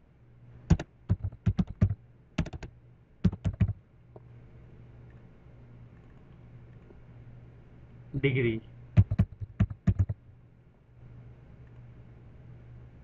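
Clicks on a computer keyboard while entering data into statistics software, bursts of several quick keystrokes separated by pauses, close and moderately loud over a steady background hum, with a brief spoken word among them.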